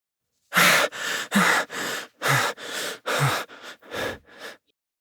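The character Rain in The Divine Speaker game pants heavily, about ten close, loud, rhythmic breaths alternating sharp inhales and exhales, fading slightly toward the end, with no speech.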